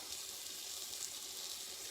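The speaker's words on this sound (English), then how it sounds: "Pour 2 cups of water in" Two cups of water pour into a roasting pan of lamb drippings, making a soft, steady splashing hiss that stays faint and even throughout.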